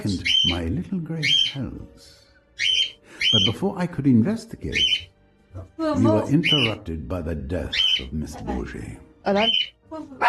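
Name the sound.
birds squawking in video game Death on the Nile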